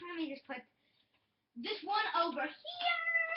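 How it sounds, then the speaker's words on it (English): A house cat meows in the background of a room while someone talks and handles batteries and screwdrivers; the harmonic cry is partly masked by nearby speech. "I think that was just my cat."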